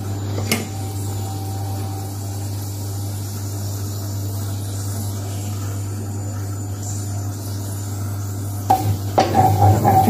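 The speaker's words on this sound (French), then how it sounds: "je vais prendre du laurier de mon jardin que je vais faire revenir dans le beurre" Bay leaves from a home garden frying in melted butter in a pan, giving a steady, soft sizzle with a low hum beneath it and a few clinks of utensils near the end.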